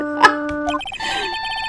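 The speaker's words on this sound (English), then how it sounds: "I bet it was this ringtone that caused it" Electronic phone ringtone from the Phoenix Wright video game, a short bright chiming melody of rapid beeping tones lasting under two seconds, loud and alone.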